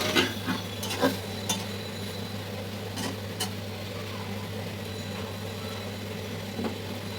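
Pumpkin bori, eggplant and hilsa fish are sautéed in a pan for a Bengali curry, giving a low steady sizzle with scattered scraping clicks of a stirring spoon, near and quiet, with no talking.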